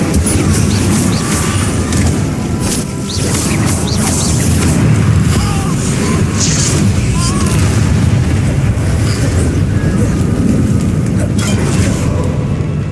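Incendio fire spell blasts in the Hogwarts Legacy video game, heard as a dense, loud, continuous roar of booming combat noise with explosive rumble throughout and no clear breaks.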